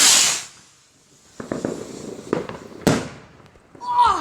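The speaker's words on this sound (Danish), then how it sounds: "Okay, så vi starter med raketten." A New Year's rocket firework hisses loudly at launch, then a series of pops and crackles follows at some distance, with a sharp burst near the end and faint voices in the background.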